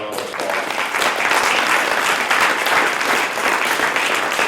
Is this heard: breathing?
no